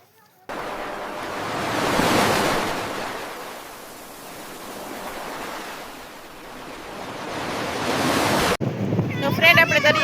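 Sea waves surging and receding along Ucha Kotda beach, mixed with heavy wind buffeting the microphone, loud and continuous with slow swells, cutting briefly to a different noisy scene at the end.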